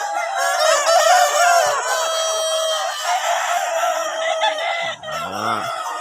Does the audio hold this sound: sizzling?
no